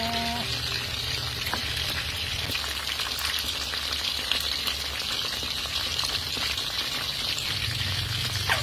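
Food deep-frying in hot oil until crisp outside and soft inside, a steady dense sizzle and crackle running throughout at close range, with no talking.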